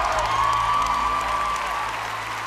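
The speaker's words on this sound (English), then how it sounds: "A big round of applause for Amelie." Audience applause and cheering at an America's Got Talent audition, a full crowd clapping steadily under a sustained musical tone and gradually easing off over a few seconds.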